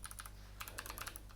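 Rapid typing on a computer keyboard, close and clear, with a few quick keystrokes, a short pause, then a denser burst of clicks over a low steady hum.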